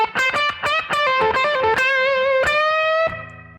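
A funky blues guitar lick in C: a quick run of picked, slightly distorted notes that ends on a sustained bent note before fading, played alone.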